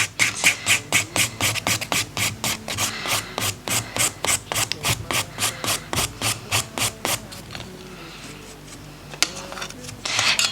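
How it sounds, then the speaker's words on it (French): A nail file rubs back and forth across fingernails, giving a close, rhythmic rasp of about twenty quick strokes that then slows into quieter scraping. "on passe un coup de lime de partout"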